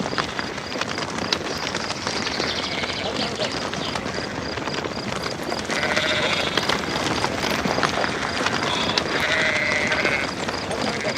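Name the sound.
sheep bleating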